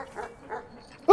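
A dog bark from the video game Animal Well, one sharp loud yap bursting in at the very end after a stretch of low, quiet background game sound.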